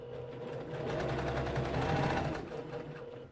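A domestic sewing machine runs a continuous stitching line through shirt fabric, a close, steady mechanical whir that builds and holds for about three seconds before easing off, with no talking.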